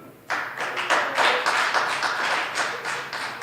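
Open mic audience at Camp Bar applauding a performer, steady dense clapping with a few sharper claps standing out, close and sustained throughout without talk.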